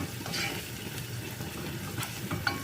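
Ingredients for a chicken rice pilaf are stirred and toasted in a pot with mint, giving a soft sizzle and occasional scraping stirs, faint and close without talk.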